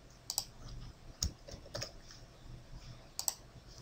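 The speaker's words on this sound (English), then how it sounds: "Press Alt W on the keyboard." Several sharp key presses on a computer keyboard during 3D modeling software work, a few isolated clicks spaced apart with a short pair near the start and another near the end, close and fairly quiet.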